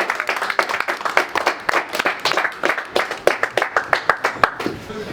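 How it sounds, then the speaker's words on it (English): A crowd at an evening awards event at a Coventry farmhouse venue gives Abdul a round of applause, with steady, rhythmic clapping from nearby hands that keeps an even beat throughout. "come on, big round of applause for Abdul"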